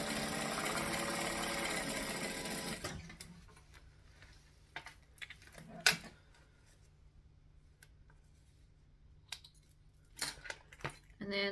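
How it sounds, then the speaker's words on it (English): A sewing machine stitches the sides of a fabric bag, running in a steady loud whir for about three seconds before stopping, followed by scattered clicks and handling noises in a quiet room. "And I'm going to stitch the sides."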